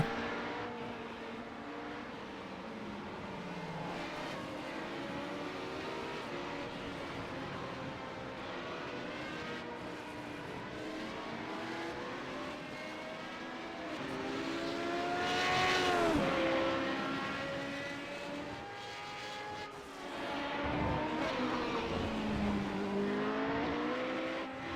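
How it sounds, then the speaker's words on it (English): Radical race car engines in the iRacing sim roar steadily and loudly throughout, with rising and falling pitch sweeps as cars rev and pass, swelling to a louder pass near the middle and again toward the end. "They make a nice noise, like the engine noise of the Radical's quite nice as well."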